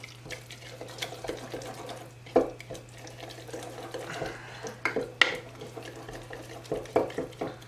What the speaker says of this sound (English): let's give it a quick mix